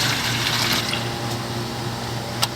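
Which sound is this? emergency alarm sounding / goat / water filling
water filling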